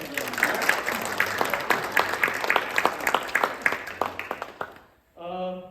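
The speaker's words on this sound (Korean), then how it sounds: "우리 함께 또 박수로" A church congregation at a Baptist Sunday service claps to welcome visitors, a warm crowd of hands building into sustained applause for several seconds before fading, followed by a brief spoken voice.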